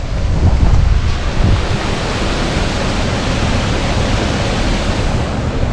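Water pours out of the Blue Hole pool in Santa Rosa, New Mexico, making a steady, loud rush that stays even and close throughout, with no voices over it.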